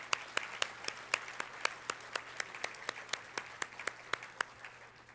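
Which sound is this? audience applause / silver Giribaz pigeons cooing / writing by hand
audience applause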